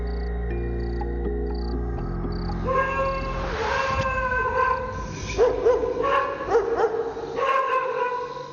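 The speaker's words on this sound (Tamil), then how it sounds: "தெருவுல இருக்கிற நாய்ங்களாம் எதுக்காக இப்படி குலைச்சிட்டு இருக்குன்னே தெரியல" Street dogs bark and howl in drawn-out, wavering cries that rise over a low droning musical backdrop, growing busier and more overlapping in the second half.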